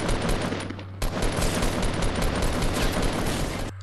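Rapid automatic gunfire in the Fortnite video game, loud and continuous bursts filling the clip with a short break partway through.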